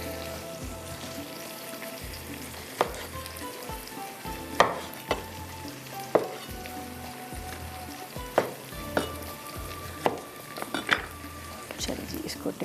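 Beef masala frying in a pan with steady sizzling, punctuated by repeated sharp scrapes and clinks of a spoon stirring against the metal, fairly close and continuous throughout.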